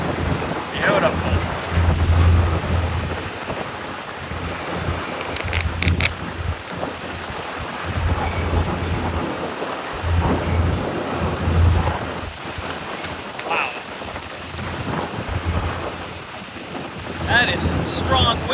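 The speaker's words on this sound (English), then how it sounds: "That is some strong wind coming across." Strong wind across a heeling sailboat on San Francisco Bay, loud gusting roar buffeting the microphone in surges, with water rushing along the hull and voices in the mix.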